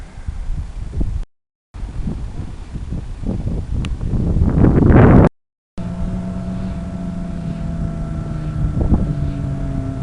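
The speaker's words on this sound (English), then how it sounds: "That hum you hear is the electricity being made." Low steady hum from a large Dutch-style windmill generating electricity, a constant drone with a faint higher tone above it, heard outdoors under wind buffeting the microphone, with no talk.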